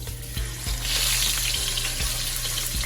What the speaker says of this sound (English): we're going to fry our fish until the skin side is crispy